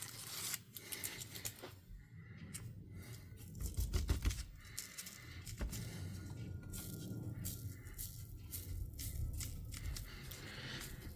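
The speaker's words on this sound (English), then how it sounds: "Let's use the good old-fashioned scissors." Old-fashioned scissors cutting air conditioning foam during a refoam of a 1994 Jaguar XJS V12 facelift, quiet close snips and rustling scrapes in an irregular rhythm with a few louder handling knocks.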